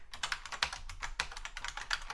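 Quick, uneven keystrokes on a computer keyboard while code is typed, close and fairly loud, with no talking over it.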